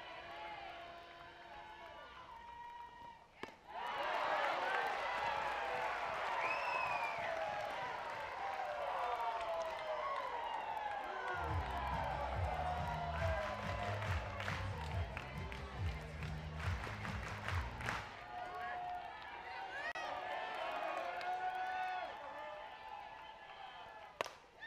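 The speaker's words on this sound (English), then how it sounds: "this has sparked to life a crowd that has been rather placid this afternoon" A softball stadium crowd cheers for Arkansas, a loud sustained roar with whistles and shouts that swells early, stays high with rhythmic clapping and stomping in the middle, then eases; people talk over it.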